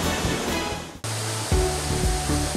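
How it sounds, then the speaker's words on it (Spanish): The 70-metre Cascada La Toma near Juayúa, Sonsonate, gives a dense, steady rushing roar, cut off briefly near the one-second mark before resuming with low thumps. "Y más adelante, Cascada La Toma, 70 metros de imponente belleza natural"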